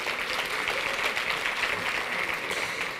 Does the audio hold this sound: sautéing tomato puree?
no